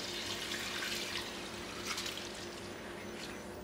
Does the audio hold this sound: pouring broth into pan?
yes